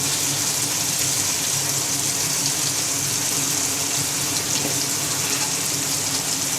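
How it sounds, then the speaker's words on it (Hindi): Water being poured into a pot of fried chickpeas for chana pulao, a steady broadband rush and gush running alone for the whole stretch without pause. "अब हम इसके अंदर पानी डालेंगे।"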